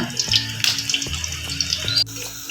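Pakoda batter drops into hot frying oil and sizzles steadily at close range, with sharp crackles and pops over a continuous hiss.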